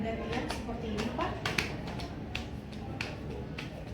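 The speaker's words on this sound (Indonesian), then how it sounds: "Nanti Bapak tepukan tangan pada pahanya secara bergantian seperti ini, Pak." Hands patting the thighs in alternation during a neurological coordination exam, a run of sharp, fairly regular slaps close by, with a voice talking underneath.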